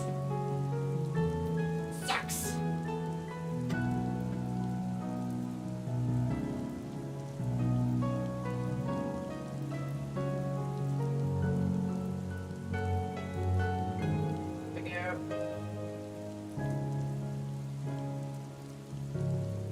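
Steady rain falls outside in a dense, even patter, fairly faint beneath tonal background music, with one brief spoken word.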